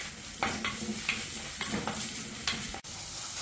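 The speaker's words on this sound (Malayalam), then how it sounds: "വീണ്ടും ഇളക്കി വഴറ്റാം." Ginger, garlic and green chillies sauté in a pan with a soft, steady sizzle while a spoon stirs them, making repeated close scrapes and taps against the pan.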